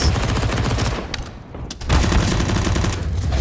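SMG fire in a professional Counter-Strike match on the Overpass map at IEM Katowice 2019 comes as loud, rapid bursts. The shots briefly die down around the middle before a renewed, sustained rattle.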